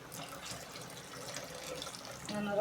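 Tap water runs steadily into a jar in a kitchen sink, measured out for tomato rasam, a quiet continuous flow that picks up as the vessel fills near the end.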